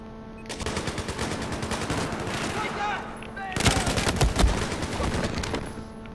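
Rapid automatic gunfire in a video game, several weapons firing in dense sustained bursts close by, with a short lull before another heavy volley.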